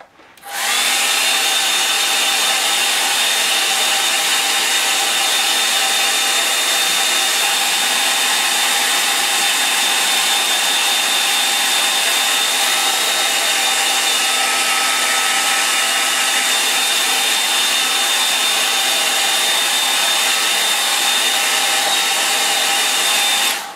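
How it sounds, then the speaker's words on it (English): A hair dryer runs continuously at close range, a loud steady whirring hum with a high whine, from start to finish. "I'll use my hairdryer. Right, for those that are listening with headphones, I'm going to start my dryer"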